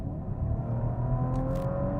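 A 2018 Audi RS5 with the optional sports exhaust accelerating hard in sixth gear with an automatic gearbox, a steady loud engine drone and exhaust roar heard from inside the car.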